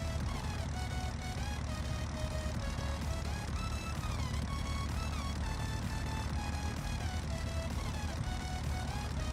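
Propeller airplane engine in flight at about 65 knots during landing practice, a steady droning hum with a low rumble and a shifting tone, continuous throughout.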